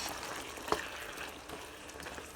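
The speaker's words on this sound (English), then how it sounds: "So let it fry up." Lamb, lotus root and mixed vegetables stir-frying in a hot pan with cracked black pepper, a steady close sizzle with one brief clink of a utensil.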